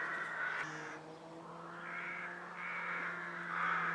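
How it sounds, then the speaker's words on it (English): Crows caw loudly in a repeated, overlapping chorus outdoors on a stormy day in the UK, harsh calls close by and continuous throughout, with no talking. "are those birds loud or what?"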